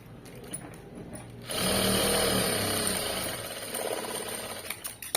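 A sewing machine runs in a steady motorized whir while top stitching a fabric border, starting after a quieter moment and holding for several seconds before slowing and stopping.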